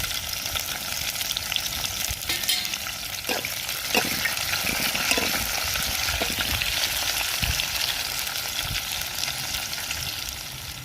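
Onions, green chillies and curry leaves frying in oil in a home kitchen, a loud, steady sizzle with occasional stirring scrapes and clinks close by, no talking.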